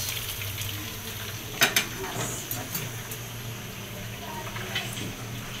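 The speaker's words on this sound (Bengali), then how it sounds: "ফিশ ফ্রাই হচ্ছে এখানে" Fish fries in oil at a family dinner party, with a soft continuous sizzle, a low hum underneath and a few light clinks and knocks.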